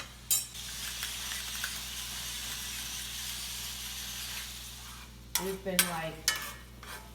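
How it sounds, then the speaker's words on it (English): Garden tomatoes and olives sauté in a pan with garlic, a steady close sizzle followed by a few clattering stirs near the end, with brief talk. "just sauteing the tomatoes and the olives"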